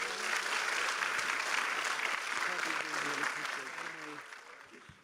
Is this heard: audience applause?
yes